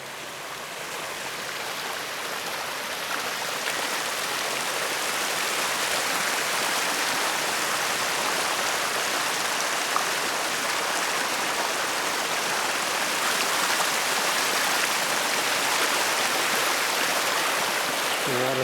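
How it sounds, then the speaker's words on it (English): A woodland stream near the Rhode Island–Connecticut line, coming from the Livingstone property and feeding the Star Trail stream, rushes and burbles steadily and close by, with no voices throughout. "That's that other stream that flows into the Star Trail stream."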